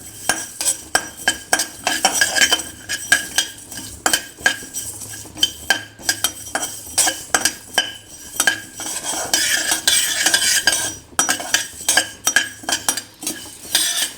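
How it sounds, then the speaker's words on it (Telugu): Masala spices fry in a pan while a metal spoon stirs and scrapes against it in quick, repeated clinks and scrapes over a soft sizzle, close and loud, with no talking. "ఈ మసాలాని మాడకుండా జాగ్రత్తగా వేయించుకోవాలి"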